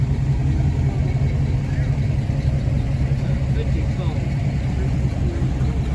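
A 1927 Hupmobile antique car engine running at an outdoor antique engine show, a steady low idling rumble with constant crowd and wind noise, nearby and even in level throughout.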